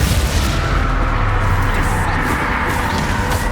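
Spell blast of the Confringo fire curse in the Hogwarts Legacy video game, a dense, rumbling explosive roar that fills the whole moment with heavy low-end boom and crackle, loud and close with no clear gaps.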